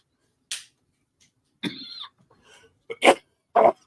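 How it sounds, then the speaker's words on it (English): A few sharp, separate coughs from a nearby person, spaced irregularly across a few seconds with quiet gaps between them. "there's a cough, guys"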